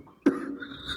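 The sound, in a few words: cough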